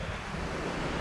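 Shallow-water waves wash steadily by a beach in the Tobago Cays, a continuous broadband surf hiss with wind buffeting the microphone and a sudden louder gust at the very end.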